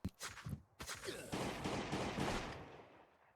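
Gunfire in the survival video game Last Day on Earth: Survival, with a few separate shots at first and then a dense, loud burst of rapid fire lasting a couple of seconds before it fades.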